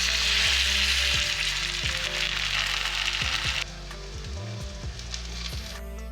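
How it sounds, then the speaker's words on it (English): Ripe banana grills in butter in a pan, giving a loud, close, continuous sizzle with scattered pops, easing to a quieter simmering crackle partway through. "So I just grill them for a while, turn them upside down just to make sure, you know, to get all the butter to every side of them"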